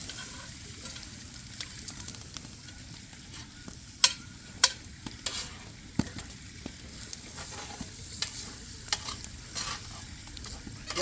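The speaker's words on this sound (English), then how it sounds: "my bacon and salt pork is almost done" Bacon and salt pork frying over a fire for charro beans, a steady sizzle with crackling and occasional sharp pops, fairly close and alone without talk.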